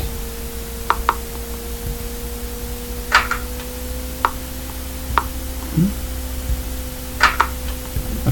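Ball-to-ball impacts in a Pygame game: a handful of short, sharp clicks and knocks scattered irregularly over a steady low electronic hum, each hit crisp and fairly close, with no talking.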